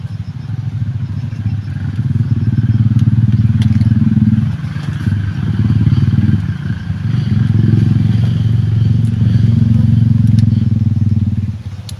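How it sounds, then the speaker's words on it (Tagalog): A motorcycle engine rumbles loudly and close by, rising and falling as it passes, with some clatter and scraping underneath. "May dumadaan na motor mga ka-idol."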